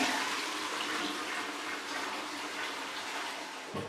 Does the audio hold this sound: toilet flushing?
yes